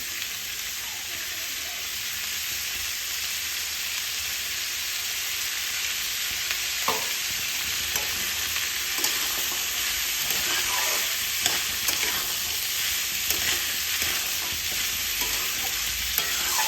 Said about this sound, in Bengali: এটা ভাজার সময় কিন্তু একটু সাবধানে থাকতে হবে, কারণ কড়াইশুঁটিগুলো কিন্তু ফাটতে পারে